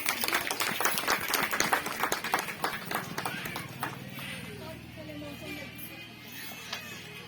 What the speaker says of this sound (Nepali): ताली भएर हामी स्वागत गर्नेछौँ